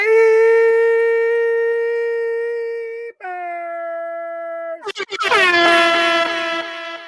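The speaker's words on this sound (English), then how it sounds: "shout out to the air horn being on time" A loud, sustained air horn blares in long steady tones, pauses briefly, then sounds again in repeated bursts with a wavering, dropping pitch.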